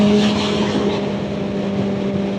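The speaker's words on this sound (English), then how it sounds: "this freaking bike sounds amazing" Kawasaki 4RR motorcycle engine running nearby, a steady buzzing drone at a constant pitch, alone and moderately loud for a couple of seconds.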